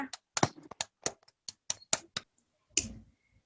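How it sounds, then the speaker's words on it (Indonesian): An elementary school class claps, a sparse scatter of a dozen or so separate claps at uneven intervals, fairly quiet, ending with a single louder clap after a brief pause. "Ayo tepuk tangan untuk kita semua"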